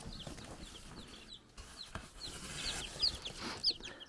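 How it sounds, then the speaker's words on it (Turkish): Newly hatched chicks in an incubator box peep in short high chirps scattered across the clip, fairly close, over a soft background rumble with a few clunks. "Toplamda 10 tane civciv çıktı arkadaşlar."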